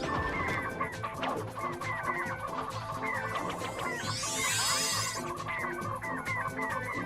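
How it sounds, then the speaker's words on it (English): A flock of chickens clucks in Ratchet & Clank (2002), busy overlapping clucks and squawks over a constant game backdrop, with a sweeping whoosh partway through and no talking. "Look at all these bloody chickens."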